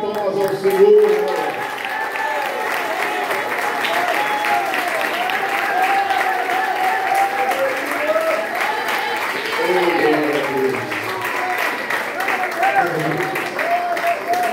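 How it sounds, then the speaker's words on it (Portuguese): A church congregation at a teaching service claps in sustained, even applause, while a voice and musical tones carry on over the dense patter throughout. "Vamos dar a melhor salva de palmas ao Senhor."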